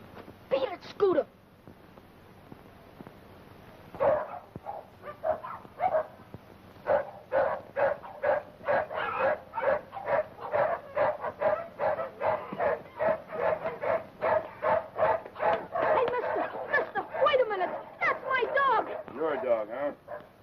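A pet dog named Scooter barks in a long run of quick, sharp yips and bow-wows, close and fairly loud, with brief whimpering sounds mixed in and speech heard at moments.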